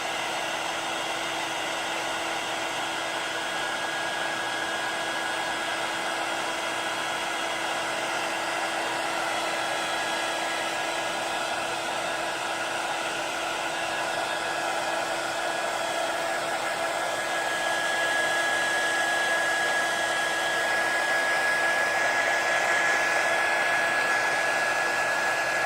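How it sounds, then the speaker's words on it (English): A heat tool blows a steady, loud, whooshing stream of hot air, melting Whisper metallic embossing powder on a Halloween coffin craft piece. "So I am going to emboss it now with the heat tool. Melt the embossing powder."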